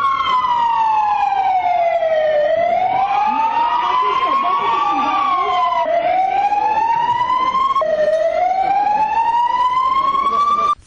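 A fire engine's siren during a fire service readiness drill in Kalamata, loud and continuous, with its pitch sweeping slowly up and down and restarting in repeated wailing cycles.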